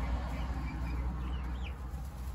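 Backyard chickens at a coop, with hens and roosters clucking softly in short, scattered calls over a steady low hum.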